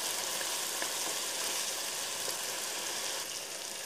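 Meat frying in oil together with a water-mixed pepper and spice paste gives a loud, continuous, close-up hiss and sizzle that holds steady throughout, with no talking.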